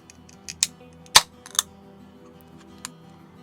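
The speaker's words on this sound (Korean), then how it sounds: "맥주 까는 소리는 마이크에 넣어야죠." A can of beer is opened near a microphone, giving a few sharp, close clicks and one crisp pop-and-hiss burst in quick succession, then near silence.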